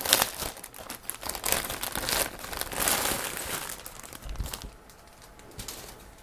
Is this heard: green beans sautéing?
no